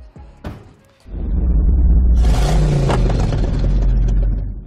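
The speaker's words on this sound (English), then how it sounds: "it's time for us guys to take this car on the road and see what this brand new engine has to offer" A 2020 Suzuki Ciaz with a brand new engine starts out on the road, its engine rising into a loud, steady rumble close by after a brief clatter and a moment of quiet, with road noise running continuously.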